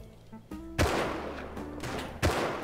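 Video game gunfire in a multiplayer shooter, a few loud, sharp shots spaced irregularly over a couple of seconds, each a sudden crack with a short tail, over a low background hum.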